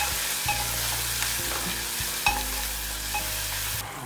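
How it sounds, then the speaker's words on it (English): Finely chopped onion frying in a pan for palak paneer gives a steady, fairly close sizzle, with scattered stirring scrapes and light clinks over a low hum, and no one speaking. "here I will fry the onions until they are slight brown"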